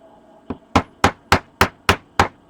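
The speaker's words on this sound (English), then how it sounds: "If you're going to hammer this, make sure you hit it dead on." A small hammer taps a 3D printed Springtrap arm piece being fitted into a hole: seven sharp, close knocks in a steady rhythm, the first lighter, with nothing else heard.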